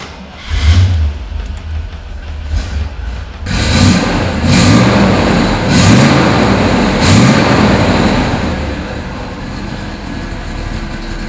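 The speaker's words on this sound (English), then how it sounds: "how about I start it for you because it makes a nice rumble." A 1964 Chevrolet Corvette Roadster, cranking with a couple of starter whirs before catching, then settling into a loud, deep, steady rumble with a few throttle blips, heard close with no talking.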